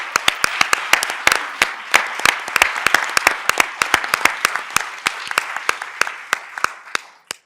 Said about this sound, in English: So I think that deserves a round of applause for everybody.